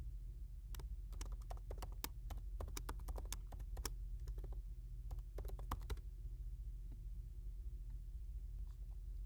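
Keys clatter on a computer keyboard as a folder name is typed, a burst of quick irregular clicks over a steady low hum, then a pause with a few scattered taps.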